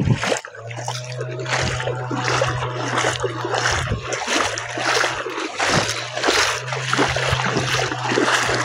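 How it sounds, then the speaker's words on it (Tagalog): Someone wades across a river, water splashing and sloshing in repeated close bursts over a steady low hum, with no talk. "Yung tatawid na po ako sa ilog"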